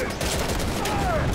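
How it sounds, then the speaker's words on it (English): Gunfire bursts in the WWII shooter game Easy Red 2 during an Omaha Beach battle with ship artillery, a brief crackling volley of shots heard at close range. "Ah, I love artillery from the ships."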